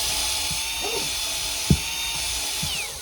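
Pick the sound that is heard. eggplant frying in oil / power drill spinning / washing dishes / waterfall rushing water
power drill spinning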